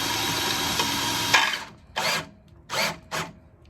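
A handheld power drill switched to second gear spins at higher speed, a steady loud whine that abruptly cuts out, then three short bursts as it restarts and stalls, with no talk.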